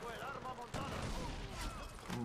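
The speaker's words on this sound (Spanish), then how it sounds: "Madre mía, explosión, ¿no?" Far Cry 4 combat: a rumbling explosion and bursts of gunfire rattle at low volume, sounding distant, with a game soundtrack and someone talking over the action.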